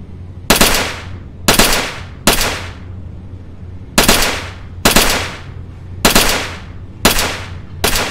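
Gunfire from test-firing weapons in the Pavlov shooter game, eight loud, sharp shots spaced roughly a second apart, each with a short decaying tail, no talking.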